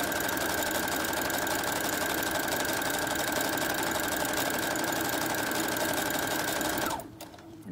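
Sewing machine stitching a child's knit fabric cape, a steady, fast, even mechanical whir running continuously at close range for about seven seconds before it stops.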